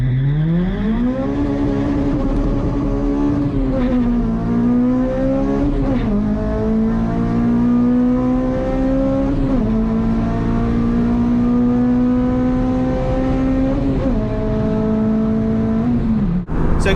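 Honda Civic Type R EP3 with a carbon body, launching hard on a drag run at Santa Pod: a loud, close, continuous high-revving engine scream climbing steadily through several gear changes for the whole run, with no talk.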